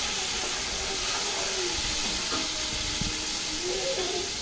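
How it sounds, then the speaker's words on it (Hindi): Tomatoes sautéing with browned onions for beef pulao, giving a loud, dense, continuous sizzle and hiss, close up, with faint stirring scrapes and no talk. "अब हम इसमें ऐड करेंगे टमाटर। टमाटर डालकर हमने इसको भून लेना।"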